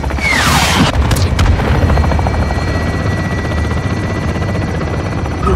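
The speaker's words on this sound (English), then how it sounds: "get the designator and mark targets for Price in the helo" Helicopter gunship in Call of Duty: Modern Warfare 2 (2022) firing on a marked target: a steady loud rotor drone throughout, with a couple of sharp blasts near the start and a whooshing pass early on.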